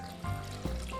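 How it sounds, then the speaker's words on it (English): Water trickles from a container into a Thermomix mixing bowl set on its built-in scale, a quiet, brief pour that swells slightly twice, close up and with no talking. "pour the water until we hit the 500 grams"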